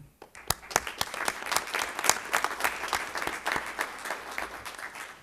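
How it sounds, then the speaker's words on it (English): Applause from the audience at a Fargo city commission meeting honoring a city staff member, a dense run of hand claps near and steady for several seconds before fading. "We just want to give you a round of applause."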